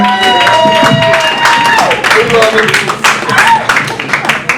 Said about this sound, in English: How about a nice round of applause for Cheese over here?